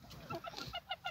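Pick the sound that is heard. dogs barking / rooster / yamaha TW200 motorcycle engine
rooster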